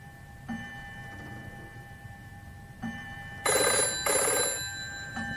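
A telephone rings in a radio drama, two clear bursts of bell-like ringing after quieter tones, close and loud, with no one speaking.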